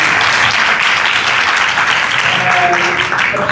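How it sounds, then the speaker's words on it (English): A panel audience gives a loud, close round of applause, steady dense clapping throughout, with a brief faint tone near the end. "Can we give them a round of applause?"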